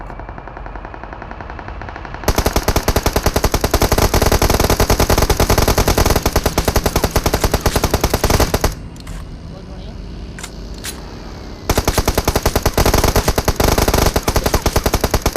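Rapid automatic gunfire in long loud bursts in the video game BGMI, aimed at a truck, broken by a brief lull, with a voice speaking briefly over the shooting.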